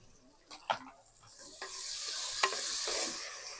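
Chopped tomatoes and two green chilies sautéing in a pan for chicken biryani, a couple of utensil scrapes then a rising, steady sizzle with occasional stirring clicks.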